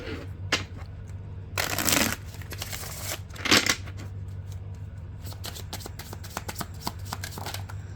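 Tarot cards being shuffled in quick, crisp bursts, with repeated riffling and soft slaps between, close up with no talking.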